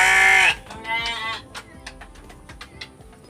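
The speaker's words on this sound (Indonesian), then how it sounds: "Dan suara domba itu biasa seperti ini." A sheep gives one loud, close, quavering bleat, then fainter farmyard noises and light clatter follow without talk.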